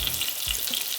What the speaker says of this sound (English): I'm going to simply place this into that hot oil and cook it for about 2 minutes aside